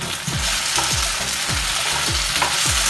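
Tomatoes sauté in hot oil in a pan for Filipino pork soup with tomato and potato, giving a steady loud sizzle with a spoon scraping and stirring in regular strokes about every half second.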